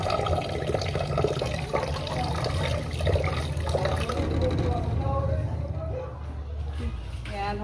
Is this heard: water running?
yes